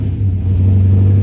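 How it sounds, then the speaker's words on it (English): A Chevrolet Camaro engine idles slightly high on a cold day, a loud, steady low rumble with a constant hum and no talking over it. "it's idling a little high"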